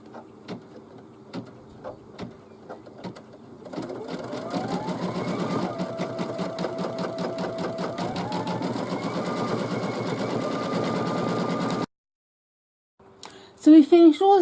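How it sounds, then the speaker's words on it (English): An embroidery machine stitches grey crochet-hook designs onto a mug rug, a steady rapid mechanical whirring with shifting pitch as the hoop moves, preceded by slow ticks and ending abruptly before a voice speaks. "Now I've changed my thread to the grey to stitch out the crochet hooks on either side of the"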